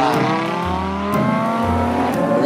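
Car engine roaring in a video game, loud racing revs with rising gear-shift tones and no talk, continuous throughout.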